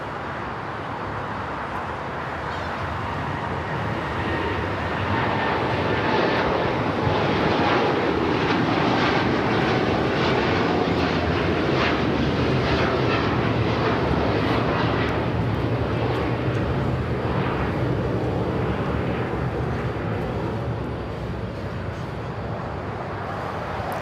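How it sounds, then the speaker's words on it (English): United jet airliner, flight 39 bound for Tokyo Haneda, rolling for takeoff on runway 25 right at LAX: a broad engine roar that swells over several seconds, holds loud and steady, then eases slightly near the end. "United flight heading to Tokyo Haneda, flight 39 now rolling down at 25 right."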